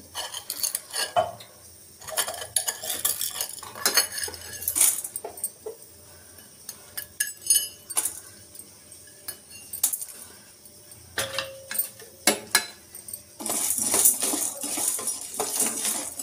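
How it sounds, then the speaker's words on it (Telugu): Raw green gram and roasted chana dal are dry roasted in a pan over low flame, a utensil repeatedly scraping and clinking against the metal in irregular bursts, with grains rattling softly between strokes and no talking. "దోరగా వేయించుకుందాము"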